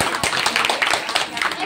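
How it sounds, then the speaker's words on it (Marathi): A dense patter of audience applause follows a hands-on experiment with candle wax and wicks at a talk on how superstition spreads, with people talking over it throughout this short burst. "टाळ्या वाजवा ह्या प्रयोगासाठी."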